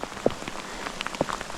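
Rain and hail fall steadily during a storm, with a constant patter and a few sharper, louder impacts close by; there is no talking.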